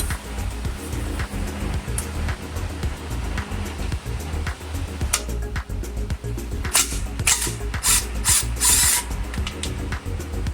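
Bolts being removed during a Honda Civic Si clutch replacement, with irregular metallic clicks, ratcheting and clanks of tools close by, busy and continuous throughout.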